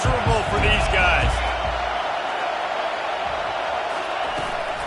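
Broad stadium crowd roar fills a college football video game, loud and steady throughout, with a play-by-play commentator's voice speaking over it near the start.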